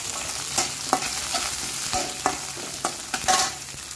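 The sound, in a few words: green chillies frying and being stirred in a pan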